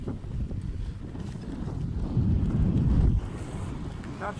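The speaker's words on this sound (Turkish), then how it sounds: "Rüzgar yoğun." Strong wind buffets the microphone during a bicycle ride to Uçmakdere, with loud, uneven low rumbling that swells and eases, with faint water and boat noise underneath.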